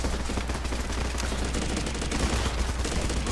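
Rapid rifle gunfire from a military shooter game fills the scene, dense bursts of shots layered over constant battle noise, loud and sustained with no pauses.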